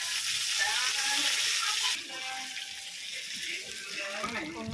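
Fish curry with chili powder and turmeric simmers on low heat in a pan, giving off a steady hissing bubble that softens partway through, with faint clinks.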